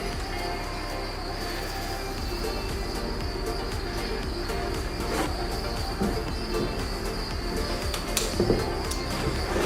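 Farmed crickets packed up in a container keep up a steady, faint high chirping, with soft shuffling and handling noises throughout.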